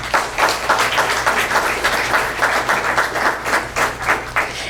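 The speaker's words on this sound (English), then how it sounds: "So applause to him." A meeting audience at the Village of El Portal State of the Village gathering claps in a short burst of moderate applause with a slightly pulsing, uneven rhythm.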